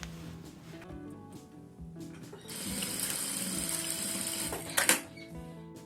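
Sewing machine stitching a seam on a small flapped fabric pouch with a ruffle runs in one steady close burst of about two and a half seconds, after quieter handling, ending with a brief clunk.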